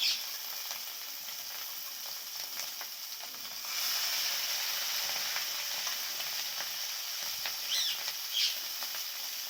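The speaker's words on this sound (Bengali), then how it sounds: "এই যে ডিমটা ভাজছি, ডিমটা ভাজা করছি বন্ধুরা।" Fish roe fries in a pan with a steady, fairly soft sizzle and hiss. Occasional scraping and clinking from stirring come and go, and the sizzle swells slightly partway through.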